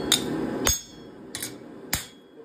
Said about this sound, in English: Take a flatter and make sure it's nice and flat here.